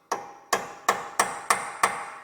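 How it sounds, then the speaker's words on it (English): A hammer strikes a punch to stake the axle nut on a 2018-23 Toyota Camry during CV axle replacement: six sharp, close metallic taps at a steady pace, each ringing briefly, with no talk. "And you want to take a hammer and just"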